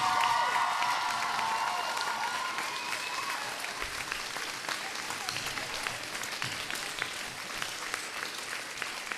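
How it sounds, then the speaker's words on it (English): An audience at a school variety show applauds steadily for a Year 9 pupil who directed the production, with crowd cheering mixed in through the dense clapping. "So let's give Kai a round of applause."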